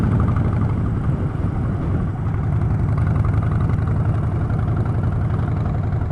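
Harley-Davidson Street Bob 1690 Dyna motorcycle engine running steadily at a low, even throb, a continuous rumbling drone close by with no speech.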